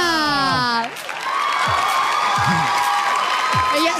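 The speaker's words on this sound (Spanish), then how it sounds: "¡Aplausos para la candidata número tres!" A television game show studio audience cheers for a female contestant, with sustained crowd noise, whoops and clapping that swell right after a loud tonal flourish.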